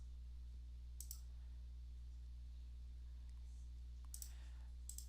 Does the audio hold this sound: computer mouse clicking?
yes